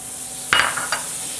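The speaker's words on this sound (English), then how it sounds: "I've got a bar of butter here. So I've got hot pan that's been heated." Butter melting and sizzling in a preheated pan, a steady soft hiss with a couple of brief brighter crackles near the middle, close and fairly quiet, no voices.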